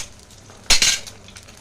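Eggs cracked straight into a wok, one sharp crisp crack followed by a quick wet splat, near and clear over a faint quiet kitchen background.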